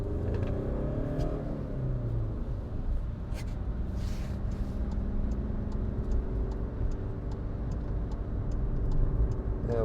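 A 2016 Skoda Fabia 1.4 TDI Monte Carlo driving on wet, slippy roads, its diesel engine droning and rising in revs with steady road rumble and faint ticking, heard from inside the cabin.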